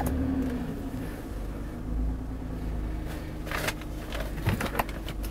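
A 2010 Toyota RAV4 V6 Limited engine idles with a steady, low rumbling hum close by, plus a faint rise in revs and a few light mechanical clicks near the end.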